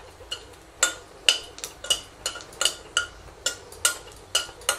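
A metal spoon stirs and scrapes cashews frying in a little oil in a pan, producing a steady series of sharp clinks and taps about every half second, close and moderately loud, with no talk.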